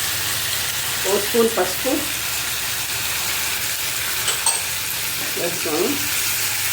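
One kilo of tomatoes fries with salt and turmeric in a pan, giving a steady, loud sizzling hiss throughout while someone talks over it in Telugu.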